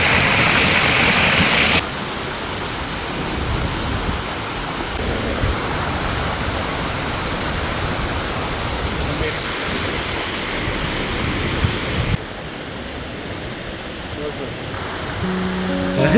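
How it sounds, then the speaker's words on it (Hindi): Clear mountain water rushes along a stream by a waterfall on the road from Naran to Babusar Top, a steady broadband roar heard up close and continuing without a break. "भाइयों साफ शफाफ कुदरती पानी।"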